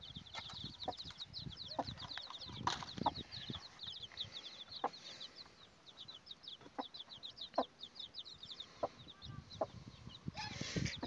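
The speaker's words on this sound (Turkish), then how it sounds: "Burada 9 tane civcivi olan tavuğumuz yatıyor" A hen with nine chicks clucking in a coop, with soft repeated clucks and rapid high chick peeps running throughout, several brief louder calls, close and fairly quiet.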